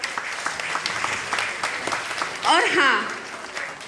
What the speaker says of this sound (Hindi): हम एक बार फिर से अपने सारे कलाकारों के लिए जोरदार तालियां।